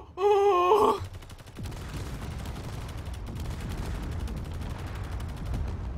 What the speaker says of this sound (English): I'm hearing explosions, but nothing's happening!